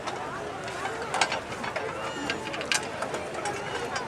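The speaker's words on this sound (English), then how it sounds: "They can use ratchets, they can use speed braces, but everything has to be" Manual ratchet wrenches click and whir in quick bursts at a construction site, with mechanical ratcheting over a busy background and people talking nearby.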